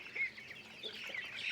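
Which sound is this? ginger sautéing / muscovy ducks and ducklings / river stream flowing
muscovy ducks and ducklings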